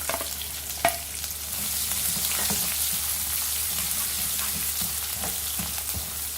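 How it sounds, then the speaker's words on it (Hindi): Chopped onion sizzles in a pan with crushed garlic and ginger, a loud, steady frying hiss that continues throughout, broken by a few light clinks of stirring and with no voice. "प्याज को भी हल्का सा भून लेंगे।"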